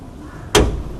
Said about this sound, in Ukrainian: Дотягувач, який доводить двері, яка там ситуація